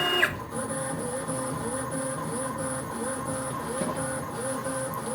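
A CNC milling machine traces a trochoidal toolpath with the spindle off, its axis motors whirring and humming in a steady looping cycle with a faint repeating high whine, close by and with no talk.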